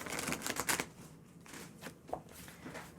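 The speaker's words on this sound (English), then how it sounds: "So let me shuffle here carefully for you" Tarot cards being shuffled by hand, a quick burst of close, crisp riffling followed by softer scattered card flicks and taps, with no talking.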